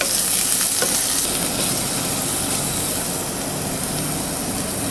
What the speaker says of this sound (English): Stir fry until the onion turn yellowish.